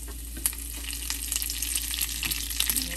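Mustard seeds, white sesame and curry leaves frying in hot oil, a soft continuous sizzle scattered with quick crackles and pops as the seeds burst, fairly quiet and unbroken by speech.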